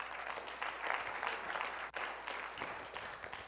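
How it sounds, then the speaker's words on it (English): An audience at a presentation claps in a fairly quiet, steady burst, the applause rising and dipping slightly as it continues for a few seconds. "go ahead, you're going to applaud"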